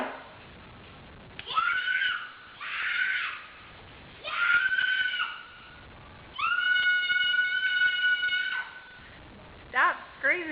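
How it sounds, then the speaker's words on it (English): A child screams in long, shrill, sustained bursts separated by pauses, loud and close, with a final shorter wavering cry. "Hey, you kid, stop screaming."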